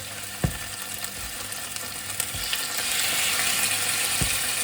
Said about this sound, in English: Get these just browned off. Get a nice colour.